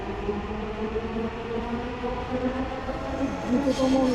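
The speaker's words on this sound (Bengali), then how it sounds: "দ্রুতগামী একটা ট্রেন দেখতে চলে গেল" A Dhaka Metro Rail train rushes past with a steady, loud rumble and droning tones, continuous throughout without a break.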